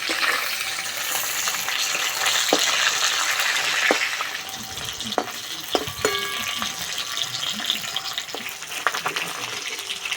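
Rohu fish frying in oil gives a loud, steady sizzle with occasional clinks and stirring sounds, and no talk over it.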